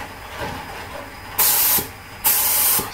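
A spray gun with a modified nozzle fires two short bursts of paint in a test spray, each a loud, sharp hiss lasting about half a second over a quieter background.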